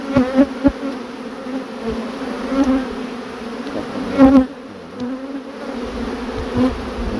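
A honeybee swarm buzzes in a continuous, close, droning hum, with individual bees zipping louder past the microphone now and then.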